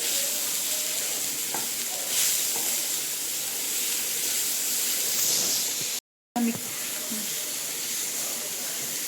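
Paneer and diced vegetables fry in a pan for a homemade sandwich filling, giving a steady close sizzle with occasional stirring clicks and a brief silent break near the end.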